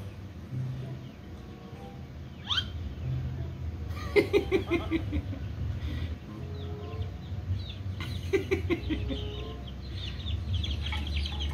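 Chickens cluck in short bursts against a steady outdoor background, with a couple of brief squawks and busy farmyard ambience throughout.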